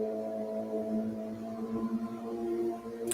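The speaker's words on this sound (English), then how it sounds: "this dude has the loudest bike and the slowest" A very loud motorbike passes slowly, its steady, droning engine rumble held close for several seconds.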